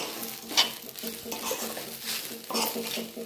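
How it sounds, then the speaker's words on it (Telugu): Deep-fried ivy gourd pieces tossed with grated coconut in a pan, giving a steady close scraping stir over a light sizzle, with a sharp utensil clink near the start and another scrape burst toward the end. "అవి వేసి కలుపుకోవాలండి కొబ్బరి బాగా పట్టేలాగా ఆ దొండకాయ ముక్కలకి"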